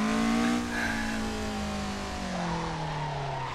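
A racing video game car engine drones and shifts pitch through a power slide, played with a Thrustmaster T300 wheel, a steady close tone sliding downward and then climbing again.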